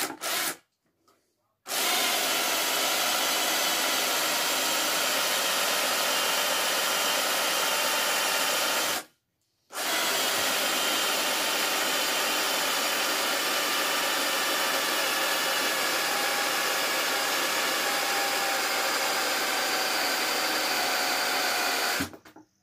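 An electric drill bores into hard material at marked spots while a homemade dough press is being built, a loud, harsh whine running continuously in long stretches with two short pauses.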